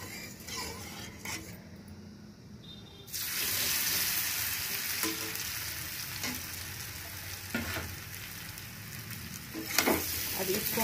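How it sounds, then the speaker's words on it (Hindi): Pieces of ground chana dal dropped into hot oil in a kadai, where a quiet start gives way to a loud, steady frying hiss, punctuated by occasional ladle scrapes and clinks. "इस पीस को सभी को हम भून लेंगे तेल में"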